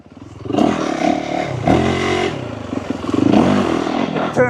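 A Yamaha YZ450FX dirt bike engine revs and rises under riding, loud and close, with throttle surges and engine braking as the pitch climbs and falls, plus some clatter from the chassis.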